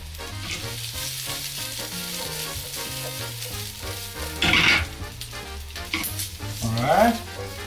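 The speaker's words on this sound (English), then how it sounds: "you just want to toss them a little bit in olive oil just to get some flavor" Cubes of smoked salmon and asparagus tossed in olive oil in a pan, a steady close sizzle under background music, with a couple of brief louder tossing bursts.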